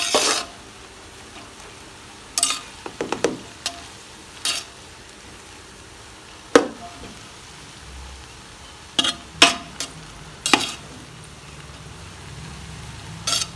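Chicken fried rice being tossed in a wok, with sharp scattered scrapes and clanks of a spatula against metal over a low background hiss, close by with no talking.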